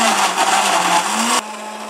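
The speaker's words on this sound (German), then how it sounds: "Dann kommt das Ganze auf den Mixer." A kitchen blender whirs loudly while mixing an oat flake power smoothie with honey, a harsh whining motor that drops sharply to a quieter hum as it slows near the end.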